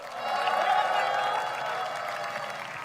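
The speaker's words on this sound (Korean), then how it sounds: "큰 박수 부탁드리겠습니다" Crowd applause at an outdoor political rally in Siheung, South Korea, a broad rush of clapping and cheering that swells early, then holds steady at a slightly lower level.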